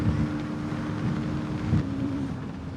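A 2025 KTM Duke 160 motorcycle engine runs hard near its limiter, a steady high-revving buzz heard close up through heavy wind rush, with no clear rise or fall in pitch.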